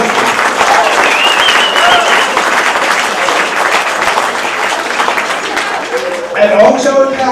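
Loud, sustained applause from a crowd at a youth prince election event in Indegat, steady clapping filling the whole stretch with some cheering near the end.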